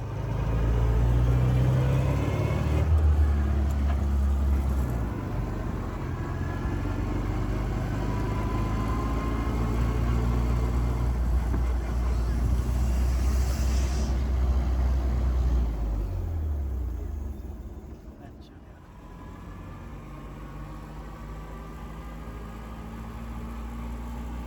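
A 1926 Voisin vintage car's engine runs steadily with a low, continuous rumble, close and moderately loud, dipping slightly in level near the end as the engine note changes.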